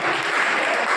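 Brief burst of dense, loud clapping from an audience at a school annual function, continuous and close throughout.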